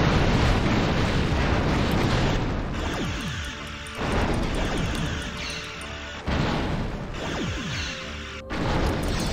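A starship hull explodes in a Star Trek space combat game: loud, rumbling crash bursts that repeat several times, each one swelling and then decaying, with no talk over them.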